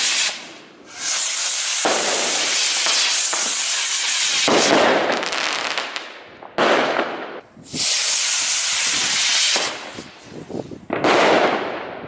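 Consumer firework fountains from a New Year's Eve display hiss loudly in long roaring bursts of several seconds each, cutting off abruptly between spurts, with no talking.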